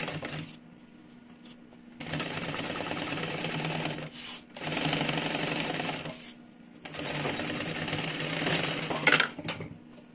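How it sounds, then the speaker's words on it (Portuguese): A sewing machine runs in four separate bursts of a couple of seconds each, stitching over an earlier seam on a small two-in-one mini backpack. Its whirring and needle chatter come up close, with short pauses between runs. "Costura em cima da sua primeira costura que você fez aqui."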